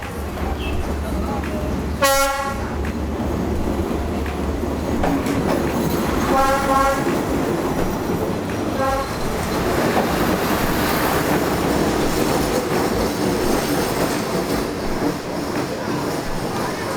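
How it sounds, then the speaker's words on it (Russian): A train rumbles past close by on Hanoi's Train Street with a steady rolling roar and clattering wheels, a horn tooting briefly near the start amid busy street noise. "Застали еще и поезд."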